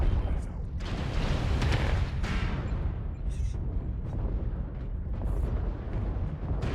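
Heavy artillery strikes thunder in Mechwarrior Online, a series of deep rumbling booms rolling one after another with sharp cracks on top, continuous and loud beneath a player's voice talking over comms.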